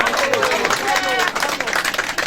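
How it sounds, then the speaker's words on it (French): Applause from an audience at a New Year's greetings event held in the art gallery of the ESDAC school, with dense clapping sustained throughout and voices mixed into the crowd noise. "On va applaudir Pierre, allez-y."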